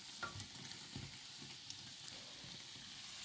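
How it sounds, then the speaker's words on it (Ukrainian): Steady hiss of doughnuts frying in hot oil, with a few soft knocks and stirring sounds, no talking. "Обсмажуйте з двох сторін до готовності."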